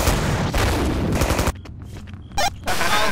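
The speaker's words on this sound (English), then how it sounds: "You don't need to aim with a Tommy gun." Rapid, loud bursts of Tommy gun fire from the video game Killing Floor, a dense automatic stream for about a second and a half, then a break of scattered quieter shots before firing resumes near the end.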